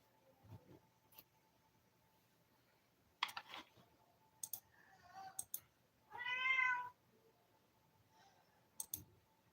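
A house cat lets out one drawn-out meow alone, indoors, among scattered faint clicks and soft thumps in a quiet room.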